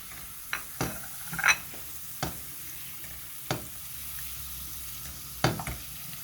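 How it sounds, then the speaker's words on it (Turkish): A block of margarine melts in a pan for Kelkit-style dry flour halva while a utensil stirs it, giving a few sharp scraping knocks over a faint, steady sizzle. "Şimdi bir paket margarinimizi tavamıza aldık."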